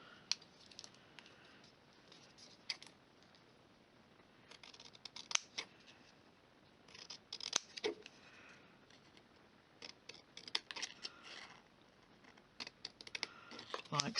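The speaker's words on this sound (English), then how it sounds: "I'm just going to trim that with my scissors." Scissors trim cardstock for a handmade stamped friendship card, producing a quiet run of small snips and crisp paper clicks, close and soft against a faint room hiss.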